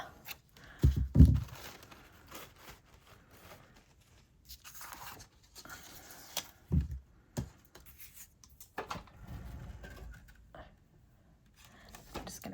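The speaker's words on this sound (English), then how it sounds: "take out scissors and cut" Scissors cut through a card at a craft table, producing irregular crunchy snips and crinkling rustles, with bursts of paper handling and scattered knocks between them.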